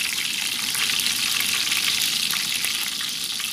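Tofu skin rolls frying in hot oil, giving a steady, dense sizzle with fine crackling and bubbling that stays close and even throughout, no voices.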